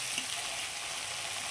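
Long beans sizzling steadily in oil in a kadai, a continuous bright frying hiss with faint stirring underneath, close and even throughout.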